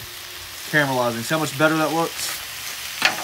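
Marinated pork sizzling on a hot griddle for a Cuban sandwich, a steady frying hiss running under people talking nearby.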